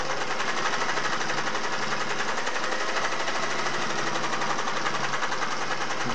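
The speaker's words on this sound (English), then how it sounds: "Black denim. Gonna sew medium stitch here." A Singer 401A sewing machine stitches black denim at a medium stitch length, a steady, continuous whirring and rapid needle chatter running alone without pause.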